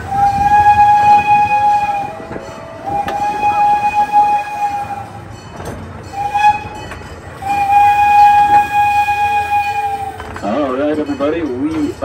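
A park railroad train at Irvine Park rolls along with a loud, sustained horn sounding in repeated long blasts, and a voice speaks briefly near the end.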